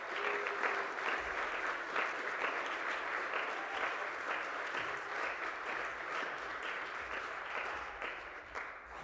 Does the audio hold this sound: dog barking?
no